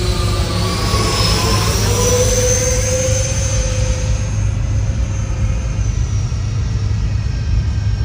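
A large model airplane powered by a high-revving engine flies overhead, giving a steady loud whine whose pitch slowly falls as it passes over, with no talking.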